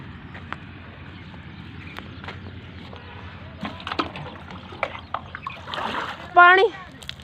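Water is poured and splashes outdoors in scattered short sloshes and splatters that build to a louder burst near the end, with voices talking in the background.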